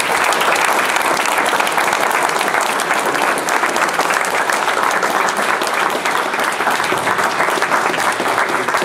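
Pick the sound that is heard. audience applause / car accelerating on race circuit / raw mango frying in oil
audience applause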